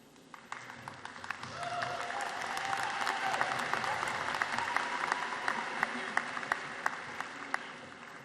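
Audience clapping at a 2006 Warwick High School graduation ceremony, a steady wash of applause that builds slightly and carries sharper individual claps toward the end, with no talk over it.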